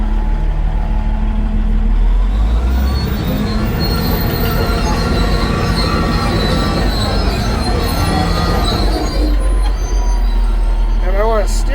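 Heavy auction machine shifted into first gear, its engine grinding and rumbling loudly and steadily throughout, with high metallic squeals and clanks riding over the drone.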